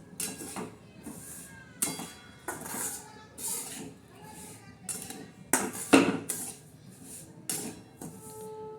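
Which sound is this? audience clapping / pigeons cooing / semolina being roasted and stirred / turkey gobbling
semolina being roasted and stirred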